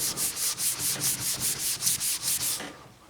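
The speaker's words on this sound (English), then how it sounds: "if you're wet sanding this, you're wet sanding next to wood" Wet sanding with 3000 grit on vinyl side art of an Atari cabinet next to wood gives a steady, rhythmic series of about a dozen close, soft hissing back-and-forth strokes that stop abruptly near the end, with no talk.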